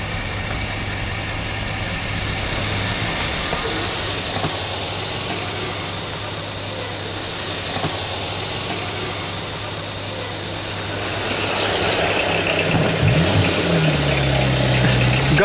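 A car engine drones steadily from inside the vehicle while it overtakes another on the road, the hum rising slightly near the end, with a voice briefly audible.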